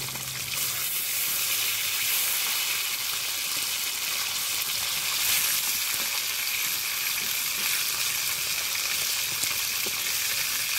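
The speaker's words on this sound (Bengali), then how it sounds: "মাছগুলো এক পাশ ভাজা হয়ে গেছে, এবার উল্টে দেব" Flipped pieces of chitol fish fry in hot oil with a continuous, even sizzle and fine crackle that stays close and constant throughout, without any speech.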